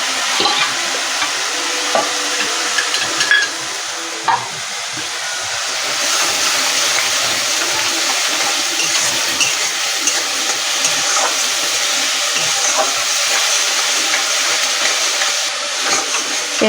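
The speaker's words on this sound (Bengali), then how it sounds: "পেঁয়াজটাকে একটু কাঁচা গন্ধ যাওয়া অবধি ভেজে নেব।" Onion paste fries in a pan, a loud continuous sizzle close up, with occasional scrapes and clinks as it is stirred, and no talking.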